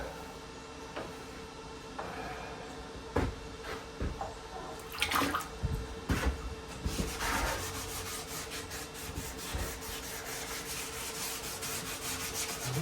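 Sandpaper rubbed by hand over the body and roof of a 1932 coupe, a steady scratchy rasping with repeated strokes, moderately close, with a few louder knocks and scrapes partway through.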